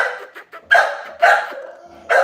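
An American Bully dog barks close by, giving several loud, deep barks spaced apart, with softer yips and whimpering grumbles between them.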